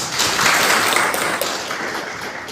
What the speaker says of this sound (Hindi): आज आप आए हुए सभी के लाइफ चेंजिंग अपॉर्चुनिटी में सभी को जोरदार ताली के साथ स्वागत करता हूं